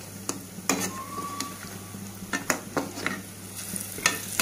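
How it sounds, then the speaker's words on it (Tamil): Keerai bonda frying in oil over a slow flame, with a steady low sizzle broken by sharp scraping clicks of a utensil turning the fritters in the pan. "இப்போ நம்ம வந்து பிரட்டி விட்டுடலாம்."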